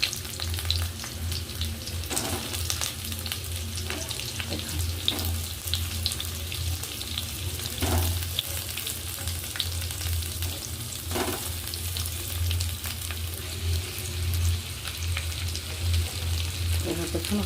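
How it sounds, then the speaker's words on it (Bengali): Potato pieces frying in hot oil, a steady close sizzle that continues throughout with occasional stirring clatters and scrapes. "আলুটা ভেজে নেব।"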